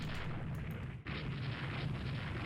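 Destroyers' guns firing at a sinking ship in the naval strategy game Rule the Waves 3, a dense rumbling barrage of booms that briefly cuts out before resuming, loud and continuous with no voices.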